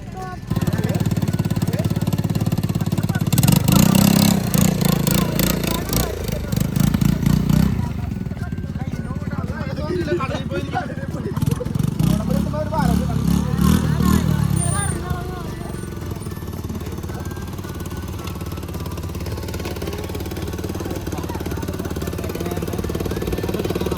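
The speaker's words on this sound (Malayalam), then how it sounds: "ക്വാഡ് ബൈക്ക് ഒന്ന് ഓടിച്ച് നോക്കണം" A quad bike's small engine runs with a rough, pulsing rumble that swells and fades, heard through steady outdoor noise, with people talking intermittently.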